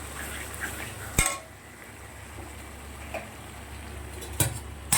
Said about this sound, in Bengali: তত সময় আমি গ্যাসটা একটু কম করে দিয়ে মশলাটা কষাবো